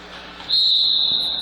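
A referee's whistle at a girls' basketball all-star game gives one long, steady, piercing blast that starts partway in and holds to the end, loud over a low gym murmur.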